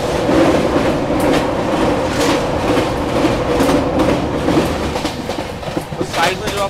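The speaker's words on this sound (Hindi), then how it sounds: "हमारी ट्रेन भी ब्रॉड गेज लाइन पर बढ़ रही है।" Express train running on a broad gauge line between Jaipur and Gomtinagar, heard from on board as a loud, continuous rolling rumble with rhythmic wheel clatter.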